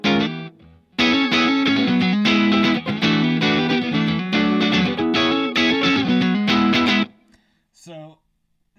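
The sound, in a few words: electric guitar through Strymon Iridium, crunchy Marshall amp tone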